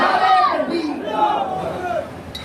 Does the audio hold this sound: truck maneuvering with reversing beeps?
no